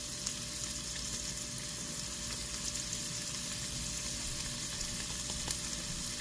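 Flour being stirred into hot fat in a pan for potatoes au gratin, a faint steady sizzle with soft crackles throughout and no talking.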